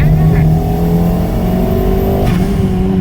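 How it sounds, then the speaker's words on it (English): A turbocharged 110 kW Ford Figo revs hard on a skid pan: a loud, close engine roar that climbs and surges continuously over three seconds, with turbo whoosh in the mix. "with all the right turbo noises"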